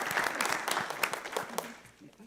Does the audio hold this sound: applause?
yes